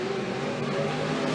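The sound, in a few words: stock cars racing on track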